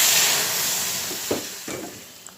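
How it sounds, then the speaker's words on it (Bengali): Dried chillies and black cumin hit hot oil in tempering for bottle gourd dal, a loud close sizzle that slowly fades, broken by a few short stirring scrapes near the end. "লাউয়ের ডালটা আমি এখন সম্বাদ দিয়ে দিলাম শুকনো মরিচ আর কালো জিরা"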